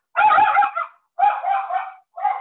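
A small dog barks three times nearby, loud and distinct, each bark slightly drawn out, with short silent gaps between them.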